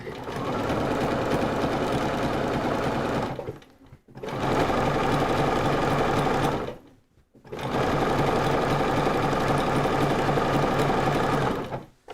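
A sewing machine runs in three long steady bursts separated by brief pauses, stitching all the way around raw fabric edges to finish them, close and loud with no talking.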